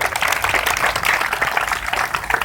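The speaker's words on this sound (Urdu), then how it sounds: "میں چاہتا ہوں ان کے لیے زوردار تالیاں بجا دیں" Audience at a community association gathering gives loud, sustained applause, a dense continuous patter of many hands clapping close by.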